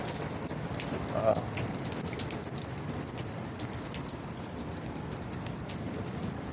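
Steady nighttime rain patters and hisses throughout, a dense wash of drops on surfaces, with a faint murmur of voices now and then beneath it.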